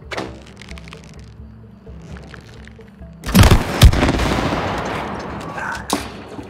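Gunfire in the co-op video game It Takes Two, a few soft thuds followed by a sudden loud burst of rapid shots and booms that rings on, with no talking over it.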